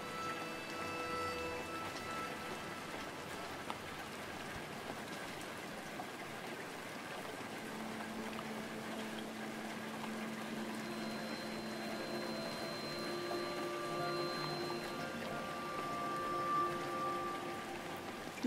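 Steady rain falls in the video game Rainswept, a dense, even hiss of water running the whole length at a quiet level, with faint tonal game sounds woven through and no talking.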